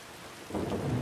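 Soft rain hiss that swells halfway through into a low rumble of thunder in the game Skyrim, fairly faint and with no voices.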